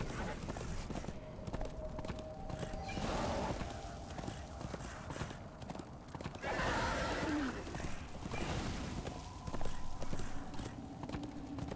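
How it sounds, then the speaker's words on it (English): A horse in the video game Darksiders 2 clip-clops in a steady galloping rhythm throughout, with a brief whinny partway through and no one speaking over it. "This horse is so slow."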